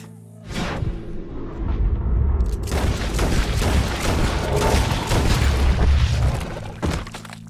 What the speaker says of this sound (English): He shot the thing!